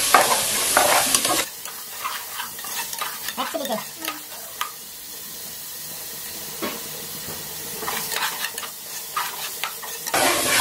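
About three-quarters of a kilo of chicken fries with chili paste for Ambur chicken biryani, a loud close hiss and sizzle broken by repeated scraping stirs that fade midway and then swell again.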